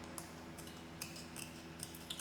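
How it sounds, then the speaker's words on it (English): Scissors trimming a rectangle out of a playing card, a series of faint, crisp snips and clicks spaced irregularly, close and quiet with no talking. "putting my scissors in the hole in which I made, I'm going to trim out"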